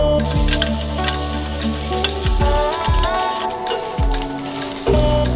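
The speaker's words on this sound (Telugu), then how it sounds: "తర్వాత ఆనియన్స్ వేసి ఫ్రై చేసుకోవాలి." Onions sizzling steadily in hot oil in a pan for a paneer butter masala, a dense continuous crackle with a few stirring scrapes and clunks, close and fairly loud with no talking.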